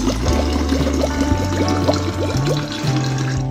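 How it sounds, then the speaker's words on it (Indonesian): Water pours steadily into a Tupperware-style plastic water bottle, a continuous gurgling fill whose pitch rises as the bottle fills, close and alone. "mari ya kita buktikan isi air dulu di botol Tupperware ini"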